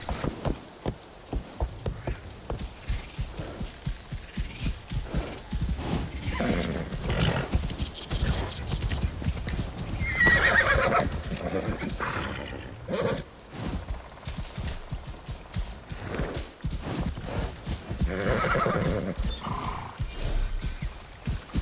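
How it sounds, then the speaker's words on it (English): Horse riding in the video game Assassin's Creed Shadows, set in the Kii region: steady clip-clopping hooves at a ride's pace with whinnying neighs rising over them, loud and close, with no talk. "How about we take a short ride? Put you and this horse through its paces a little."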